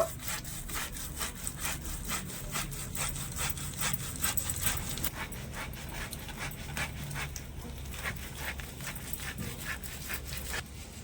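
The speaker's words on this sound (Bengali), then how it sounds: "গ্রেটারের সাহায্যে তালগুলো এভাবে করে ঘষে নেব" Ripe palm fruit pulp is rubbed back and forth over a grater in quick, steady rasping strokes, close and fairly quiet, a continuous scraping rhythm throughout.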